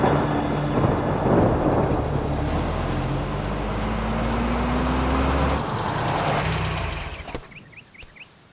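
Rumbling thunder rolls loudly and steadily under heavy rain in a forest scene of a Hindi-dubbed comedy film, a low drone filling most of the clip before fading into quieter patter near the end.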